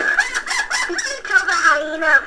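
A Lion King toy plays its electronic hyena sound effect, a short burst of cackling, squawking cries, close and fairly loud with no other sounds around it.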